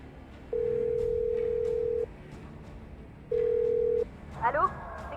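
A telephone ringback tone sounds on the line, two long steady beeps with a gap between them, followed by a brief clatter as the receiver is picked up.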